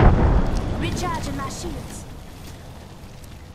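A grenade explosion in a video game opens with a loud booming blast that decays into a long rumbling tail, while a voice speaks over the fading rumble.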